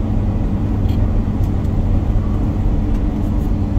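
A Peterbilt truck rolls along a road, giving off a loud, steady low rumble of engine and tire noise from inside the cab, with no talk.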